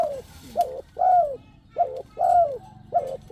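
A tame spotted dove of a prized ground-line breed coos close by, repeating rhythmic hollow notes in a steady pattern of short and drawn-out calls, loud and clear with no voices.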